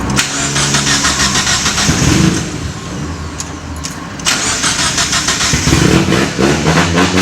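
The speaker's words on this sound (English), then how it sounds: "I should just turn it on too." A turbocharged Miata drift car cranks and fires up, its engine catching and revving loudly up close before settling into a rough, burbling idle, with a second sharp rise in revs toward the end.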